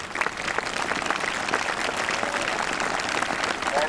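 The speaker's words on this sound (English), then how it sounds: "Ladies and gentlemen, I think a great round of applause would be highly appropriate." Spectators at the Atholl Highlanders parade applauding 50-year service awards outdoors, a broad continuous patter of many hands clapping at moderate distance, steady and unbroken.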